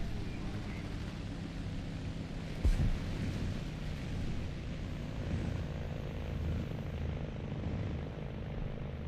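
Airplane engine in the War Thunder video game, a steady broadband drone filling the whole clip with a brief louder burst near the three-second mark, with talk faintly mixed in.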